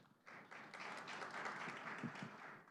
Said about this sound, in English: I do hear the claps from the side